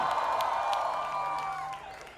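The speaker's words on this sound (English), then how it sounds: "Please give them a huge round of applause" Applause and cheering from a film-promotion event crowd for actors Kartik Aaryan and Bhumi Pednekar, a dense sustained wash of clapping that holds steady for about two seconds before starting to fade.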